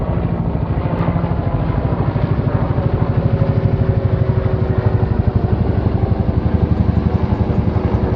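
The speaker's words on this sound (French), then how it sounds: "C'est des hélicos militaires, hein" Armed military helicopters fly over an abandoned seaside resort, their rotor blades chopping in a fast, steady low thump that is loud and continuous throughout with no talking.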